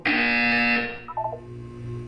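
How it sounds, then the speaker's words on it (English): A harsh electronic buzzer in the video game Portal 2 sounds once, loud and steady for under a second, then cuts off into faint, low game ambience. "When you hear the buzzer, look down at the floor."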